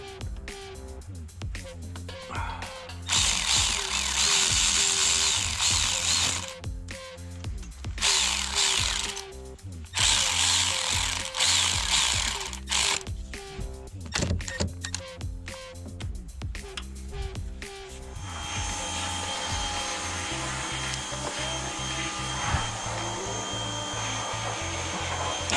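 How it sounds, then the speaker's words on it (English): Honda 400EX ATV electric starter cranking the engine in whirring bursts broken by short pauses, followed by a steadier running sound near the end. "I just tested the starter and it's starting."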